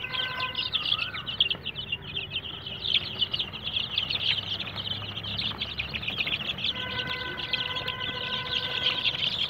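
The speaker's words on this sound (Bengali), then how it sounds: "সব ফার্মি মুরগি, মিশরি ফার্মি।" Egyptian Fayoumi chickens on a farm in Chandpur, Bangladesh, newly let out into open ground, cluck steadily at close range amid constant high bird chirping, with no talking.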